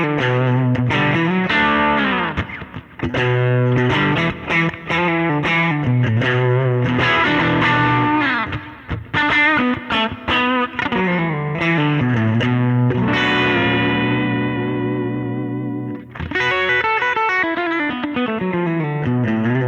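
Distorted electric guitar riffs played through a vintage Silvertone amp profile on a Kemper, loud and close. Busy chugging and chords run with brief gaps and a sustained ringing passage, with no talk.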